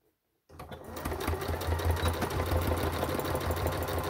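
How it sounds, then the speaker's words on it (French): A sewing machine stitches a handbag seam, starting abruptly after a brief silence and then running steadily with a fast, even mechanical whirr and needle chatter, close and continuous. "Donc maintenant, on se remet sur la machine à coudre. Et on va se mettre à 1 cm comme tout à l'heure."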